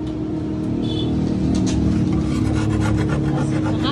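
A handmade bolo machete from Leyte, Philippines is sharpened with a sharpener, giving continuous close rasping and rubbing strokes over a steady low rumble, with no break for about four seconds.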